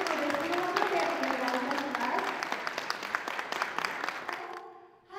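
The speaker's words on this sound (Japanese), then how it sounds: "盛大に拍手をお願いします。" Audience applause at an opening ceremony for the expanded international logistics terminal wharf at Tsuruga Port, a steady dense clapping from a hall crowd that thins and fades out near the end, with a voice heard over it.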